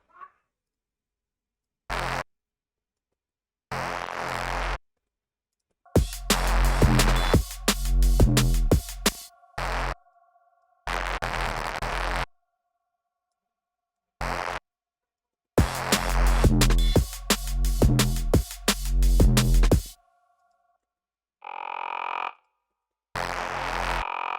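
Harsh, buzzy synthesizer notes fire in short bursts and longer gritty phrases separated by silences, sounding heavily distorted and loud.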